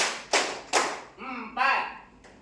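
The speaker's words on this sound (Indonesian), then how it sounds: "Tepuk 1, tepuk 2, tepuk 3" A class claps a counted rhythm pattern together: three sharp, loud broadband bursts in even succession, with a teacher's voice chanting the count between and over the later claps.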